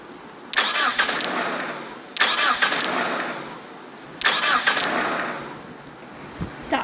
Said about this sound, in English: Stop trying to start your car.